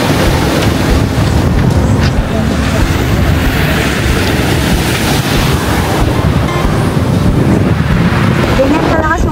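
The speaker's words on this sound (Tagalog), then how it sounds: "Ganyan kalakas yung alon" Strong surf at Papua Pebble Beach in Mindanao: a loud, unbroken roar of crashing waves and churning water, heavy with wind buffeting the microphone throughout.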